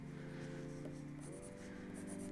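A pencil scratches across paper in short sketching strokes, heard close over a steady background hum with no speech.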